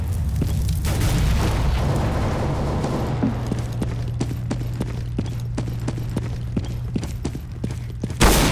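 A grenade bursts in Counter-Strike: Global Offensive, a loud booming blast followed by a fading rumble and scattered sharp clicks and gunfire-like pops in the match.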